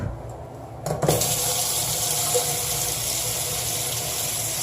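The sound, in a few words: water running from tap over toothbrushes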